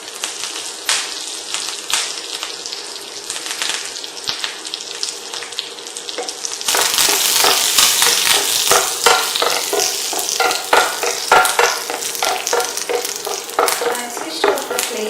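Curry leaves sizzle hard in hot oil tempering for South Indian rasam, a steady crackling fry that jumps louder midway, with faint stirring clicks and no talking.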